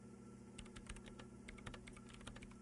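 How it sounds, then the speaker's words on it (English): Hands type rapidly on a computer keyboard in the Disco Elysium video game, a dense run of soft, close key clicks over a low steady hum. "Her hands typing hundreds of commands into the machine."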